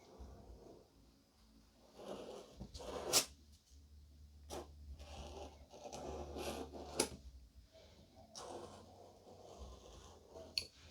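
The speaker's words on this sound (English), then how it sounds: "I'm actually just going to use the scalpel again just to cut around" Scalpel trimming around fondant or gum paste farm images for a barn cake, with soft scratchy cutting strokes and small scrapes coming in uneven bursts, close and quiet.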